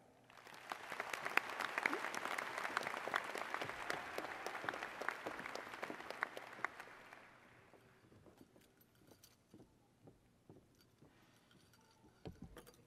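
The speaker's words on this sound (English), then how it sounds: "Please give them another round of applause." Audience applause at a high school graduation ceremony in a large hall, dense clapping that holds for several seconds and then thins to scattered claps, fairly distant, with no talking.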